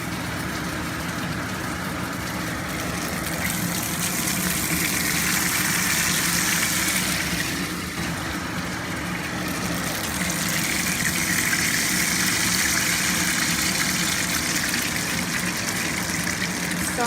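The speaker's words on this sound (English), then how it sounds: "sorry about the blower" A blower runs steadily in a home kitchen while latkes and sufganiyot are being fried, giving a loud, continuous rushing whoosh throughout with no voices over it.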